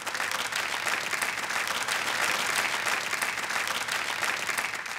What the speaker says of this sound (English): let's give Shikha a huge round of applause.